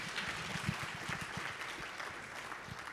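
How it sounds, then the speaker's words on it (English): Audience at a symposium marking an anniversary celebration giving a round of applause, steady dense clapping from a room full of people, sustained and fairly even throughout. "A round of applause, ladies and gentlemen."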